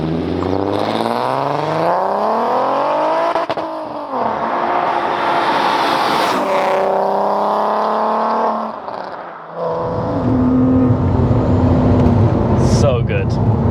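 A supercharged 406 bhp VW Golf Mk4 R32 engine revs hard and climbs through the gears, its rising pitch sweeping upward, dipping on a shift, then roaring again loud and close inside the car.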